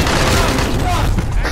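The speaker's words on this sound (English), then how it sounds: "why do they keep bombing the place?" Loud, heavy bombing explosions rumble and crack in Call of Duty Black Ops Cold War, dense and continuous, with players talking over the blasts.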